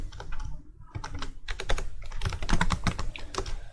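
Rapid clattering of a computer keyboard as code is typed, dense irregular keystrokes close up with brief pauses between bursts, no talking.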